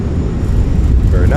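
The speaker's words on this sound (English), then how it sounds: "Nose down gently, reversers are out, decelerating." Roaring engine rush of an Airbus A319 with thrust reversers deployed during landing rollout in a flight simulator, a loud steady broadband wash with low rumble throughout, with a voice speaking over it.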